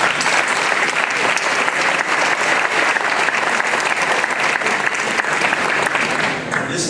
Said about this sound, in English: I'd like to give them their applause.